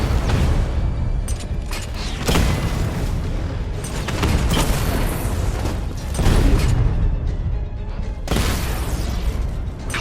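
Dense, continuous roar of booms and crashing explosions, with metallic creaks and pops, as an enemy Cauldron vehicle is destroyed in Batman: Arkham Knight, loud and sustained throughout.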